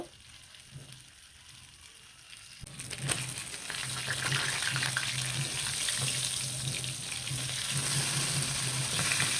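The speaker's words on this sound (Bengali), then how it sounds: "সবগুলো দেশি কই মাছ দিয়ে দিলাম এখন ভালো করে লাল লাল করে ভাজি করে নিব" Native koi fish, climbing perch, dropped into hot oil to fry, starting quiet and then bursting into a loud, steady crackling sizzle that continues close up without talk.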